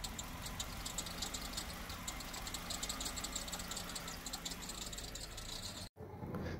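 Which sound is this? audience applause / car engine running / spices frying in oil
car engine running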